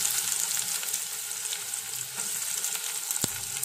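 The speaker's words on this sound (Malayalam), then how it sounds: "കടുക് പൊട്ടി വരുന്നുണ്ട്." Mustard seeds splutter in hot oil while onion fries for a simple fish biryani, a steady close sizzle dotted with sharp pops, with no voices.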